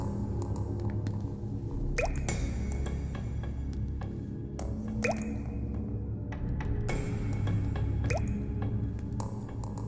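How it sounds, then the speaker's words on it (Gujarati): Water drips in slow, sparse single drops, three or four clear plinks spaced a couple of seconds apart, over a low steady rumble with no talking. "અરે પાણી ક્યાંથી ટપકી રહ્યું છે?"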